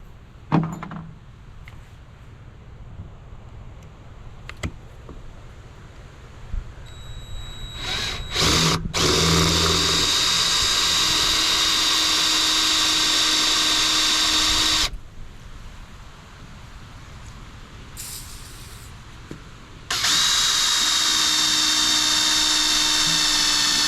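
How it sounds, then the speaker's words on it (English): A power drill with a metal bit whines at high pitch in two long, loud bursts drilling out a metal bolt on an old boat winch, separated by a pause, after a few quiet clicks and taps. "Now we're about to drill that out with the actual metal bolt or metal drill bits"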